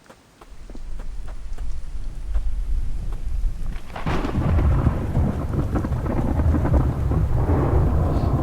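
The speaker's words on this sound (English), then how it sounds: "And now it's raining." Rain and rolling thunder in the survival game The Infected, a steady wash of rainfall that swells louder partway through as a deep rumble builds, with no talking.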